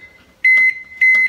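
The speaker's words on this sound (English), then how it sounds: "Then whack it in the microwave for exactly a minute" Two loud, steady electronic beeps from a microwave oven that has been heating cold milk, each lasting about a quarter second, close and alone.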